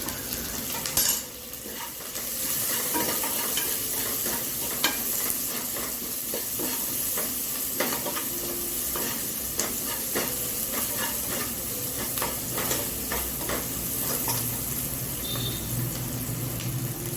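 Salna ingredients frying and being stirred in a pan for spicy roadside salna, a steady loud sizzle with repeated scraping and clinking of the utensil against the pan throughout, no voices.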